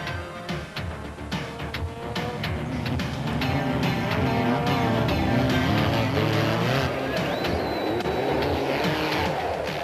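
Racing cars and motorcycles roar through a round-the-houses race at the 1990 Roof of Africa event, engines revving and droning steadily for the whole stretch, with a brief high whine near the end.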